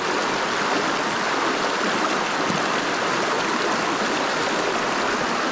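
A fast-flowing stream in high water rushes loudly and continuously nearby, a dense, even roar with no talking.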